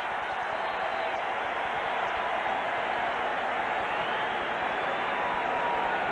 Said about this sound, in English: And the crowd gets revved up for the first pitch.